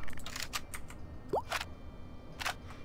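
A quick series of light mechanical clicks and clacks of a video game AK assault rifle reload, magazine swapped and bolt worked, with a short rising squeak midway.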